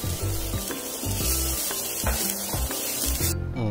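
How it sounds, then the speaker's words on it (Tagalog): Onions sauté in oil left over from frying pork chops, giving a loud, continuous sizzle with rhythmic scraping from stirring, and the sound drops away sharply at the end. "una nating igisa ang sibuyas"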